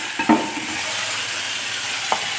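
Garlic and red lentils hit a hot pan and sizzle steadily while being stirred, with a few soft scrapes and taps of a spoon against the pan, close and continuous.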